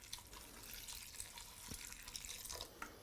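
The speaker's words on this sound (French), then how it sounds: "Je vais mettre l'eau à mi-hauteur." Tap water runs steadily into a cooking pot holding vegetable bouillon, filling it halfway. The pour is a faint, continuous splashing hiss with no talking.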